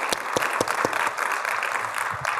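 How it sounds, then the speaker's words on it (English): Audience at a GDC conference session claps to welcome a speaker, a loud burst of applause with a few sharp, distinct claps standing out near the start. "Let's clap for Rob."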